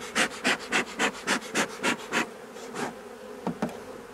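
Honeybees buzzing loudly and close at an opened hive, in rhythmic pulsing swells that give way to a quieter, steadier hum with a few brief bursts, no talking.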